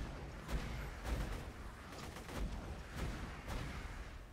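A launcher firing in Borderlands 2, a run of fairly faint, muffled booms and gunfire bursts repeating about every half second against a dense game backdrop.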